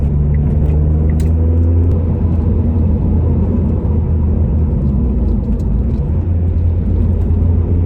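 A Mk6 Ford Fiesta ST150 fitted with a Whiteline rear anti-roll bar takes a tight junction turn, steady loud low engine and road rumble heard from inside the cabin, continuous throughout with faint ticks above.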